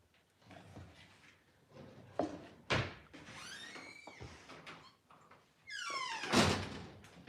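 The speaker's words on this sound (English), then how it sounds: "Door needs some grease." A squeaky door that needs grease, opened and closed indoors during a home decor project, giving drawn-out rising and falling squeals with a few dull thunks from the door.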